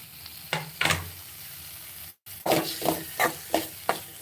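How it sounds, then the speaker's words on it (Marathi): Tomato frying with onion masala in a pan: a constant sizzle with repeated sharp scrapes and taps of a spatula mashing the mixture, briefly cut by a moment of silence midway. "आता मी यात टोमॅटो टाकते"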